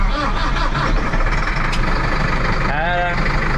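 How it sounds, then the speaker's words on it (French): A Massey Ferguson farm tractor's engine runs with a loud, steady rumbling idle close by, a brief whining tone rising near the end, and a voice speaking partly over it. "Allez, démarrage du tracteur."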